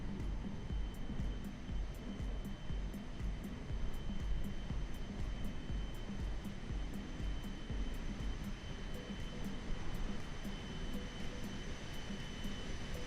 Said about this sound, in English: At least this one has engine sounds.